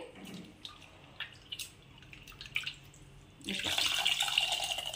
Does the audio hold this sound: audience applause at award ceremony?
no